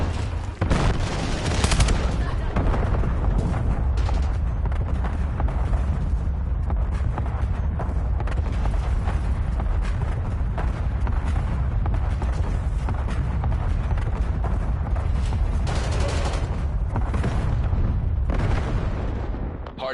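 Continuous heavy gunfire and explosions from a Call of Duty Black Ops 7 multiplayer match, with a grenade blast among dense, loud bursts of shots that keep going for the whole stretch.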